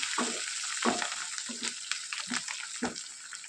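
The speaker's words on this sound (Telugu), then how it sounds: "ఈ కొత్తిమీర కూడా మగ్గిపోయేంత వరకు ఇలా కలుపుకుంటూ వేయించుకోవాలి" Coriander leaves stir-fried in a pan for chicken liver fry, a steady sizzle punctuated by repeated rhythmic scrapes and knocks of the spatula against the pan.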